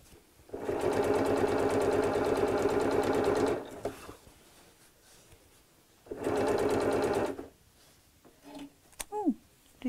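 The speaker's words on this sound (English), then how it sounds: "you've got decorative stitches on your sewing machine" A domestic sewing machine stitching decorative stitches in two steady, fast whirring runs separated by a quiet pause, close and loud, followed by a few soft clicks.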